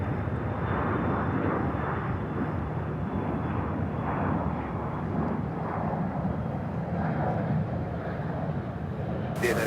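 An American Airlines jet takes off from runway 36 right at Charlotte Douglas International Airport, its engines producing a loud, sustained roar throughout, with radio chatter faintly underneath.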